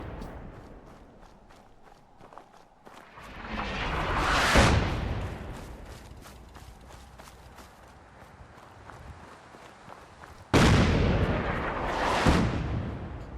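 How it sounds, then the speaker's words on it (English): A ship's cannon in the video game Fallout 4 fires several times, each boom a loud, broad blast with a rolling tail, the later one sudden and strong, over a low background rumble. "You saw that cannon went off."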